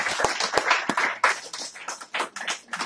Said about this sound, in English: Let's give him applause, everyone.